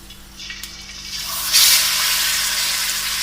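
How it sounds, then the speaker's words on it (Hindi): Chargha chicken hits warm oil over a low flame and starts a steady sizzle that swells after a moment and holds as a continuous bright hiss, close up with no talk. "ऑयल को थोड़ा सा गर्म करें और हल्की आंच पे इसको हमने तलाई करनी है इसकी।"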